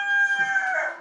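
A rooster gives a single drawn-out, harmonic crowing call lasting about a second, close and fairly loud, with no talking.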